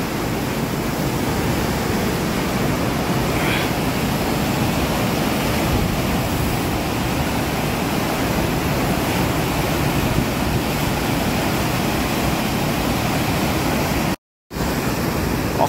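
Floodwater from a mudflow rushes through Osh city in Kyrgyzstan, a loud, steady, unbroken roar of churning water that lasts about sixteen seconds, with a brief dropout near the end.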